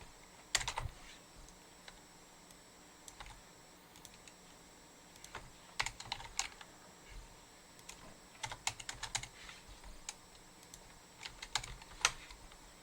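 Code being typed on a computer keyboard during a programming lecture: irregular bursts of crisp key clicks, close and moderately quiet, with pauses between runs and no talking.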